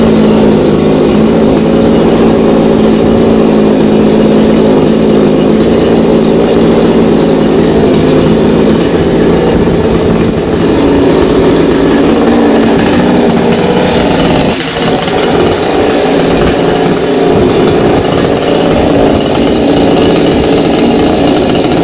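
A chainsaw cuts into a king areca palm tree outdoors, running loud and continuous for over twenty seconds with a steady high whine and a brief dip in pitch partway through.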